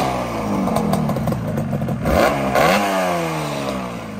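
A 1981 Yamaha RD350LC two-stroke motorcycle engine, already warmed up, fires and revs in several sharp blips that rise and fall over a steady idle, loud and close with mechanical clatter.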